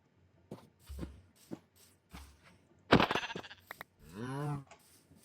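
Sheep bleat in Minecraft, with a few short wavering calls and soft game thumps and clicks scattered across the span, quiet overall.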